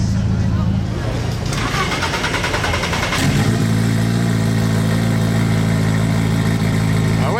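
A Chimera sports car leaving a gathering of hypercars at Christmas, engine revving and then settling into a loud resonant running drone close by, with voices over it.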